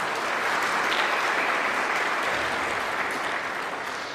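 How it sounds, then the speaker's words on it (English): An audience at the unveiling of a new Brightline station at Orlando International Airport claps steadily for the commissioners, a dense, even round of applause lasting several seconds with no voices over it. "Let's give them a little round of applause."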